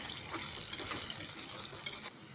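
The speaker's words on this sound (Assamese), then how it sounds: "অকণমান আমি ভাজি ল'ম" Potato pieces frying in a pan while a home cook makes a soybean and egg recipe: a steady, faint high sizzle runs throughout, broken by a few soft stirring scrapes.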